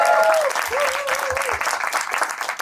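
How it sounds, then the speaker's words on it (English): Applause from a studio audience at a pitching show, steady clapping throughout with a voice talking over it. "Can we have a round of applause?"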